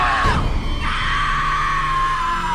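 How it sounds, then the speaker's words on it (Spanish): A loud, sustained scream of terror from a woman, high and piercing, held for over two seconds with a brief shrill rise at the start and no words. "Camila gritaba de la desesperación y del terror"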